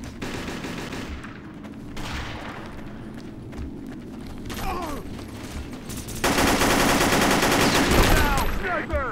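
Rapid gunfire in the online shooter Operation 7, with bursts of automatic fire and scattered single shots, building into a dense, loud fusillade in the last few seconds.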